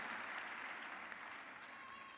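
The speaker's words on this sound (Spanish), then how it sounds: "tiene que ser más fuertes esos aplausos" Dense applause from an audience fills the space as a steady, even wash of many hands clapping, moderately distant and fairly soft, with no pauses.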